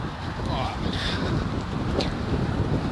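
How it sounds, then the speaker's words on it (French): Strong wind roars outdoors beside a manure heap, a steady broadband buffeting that batters the microphone for the whole stretch, with no clear gaps. "Il y a beaucoup de vent"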